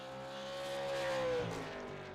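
A stock car in a sim racing video game at Southern National, engine droning with a steady pitch that swells briefly and then fades, fairly quiet and with no voices.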